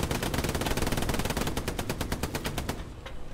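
Sustained automatic machine gun fire in the World War II shooter Hell Let Loose during a D-Day Omaha Beach assault, a rapid steady rhythm of sharp bursts for about three seconds, loud and close, easing off at the end.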